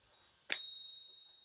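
A silver eagle coin rings once when tapped, giving a single bright, high ping that decays over about a second in an otherwise silent room.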